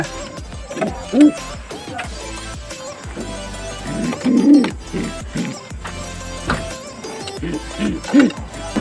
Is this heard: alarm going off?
no